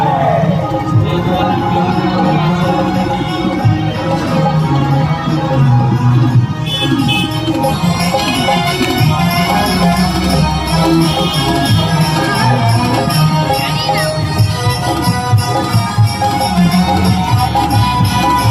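Dense festival crowd at the Dhanuyatra in Bargarh, a steady wall of overlapping voices, shouts and babble with drums or music mixed through the whole stretch, loud and continuous throughout.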